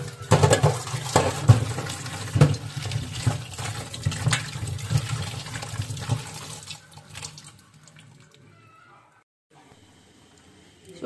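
Tap water runs steadily into a kitchen sink as tomatoes are washed, loud and continuous for about six seconds before cutting off to near silence, with faint clatter afterward.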